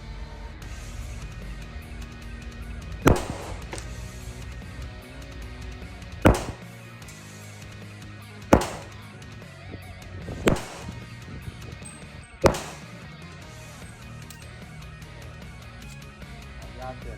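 Five sharp, separate shots from a CK Arms .40 S&W competition pistol crack out at irregular intervals of about two to three seconds, standing out clearly over a low, murmuring background.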